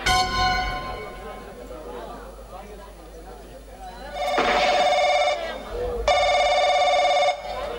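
A telephone bell rings twice in loud, trilling bursts of about a second each, after a stretch of quieter background sound.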